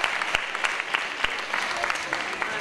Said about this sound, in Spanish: Un fuerte aplauso para todos estos chicos que están defendiendo el deporte.